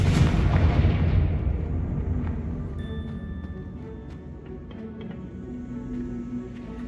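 Fire-spell blast in Hogwarts Legacy, one loud booming explosion that rolls out and fades into a low rumble, with no talking over it.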